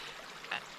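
A creek runs through the woods, its water giving a soft, steady trickle that stays faint and close, with a brief brighter splash partway through.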